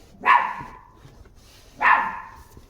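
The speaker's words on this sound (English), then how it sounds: "I had to let the brat in, otherwise she would have kept barking at me because I had the door shut" A dog behind a closed door barks twice, sharp and loud, the two barks about a second and a half apart with quiet between them.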